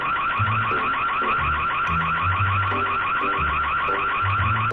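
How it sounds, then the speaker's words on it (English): A Ring home security alarm sounds outside a house as a continuous loud warbling electronic siren with rapidly cycling tones, steady for the whole stretch. "thanks to the Ring Home security alarm, they could quickly scare him away"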